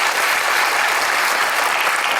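An audience at a government event gives continuous, dense applause to welcome the chief minister, loud and sustained with no pauses.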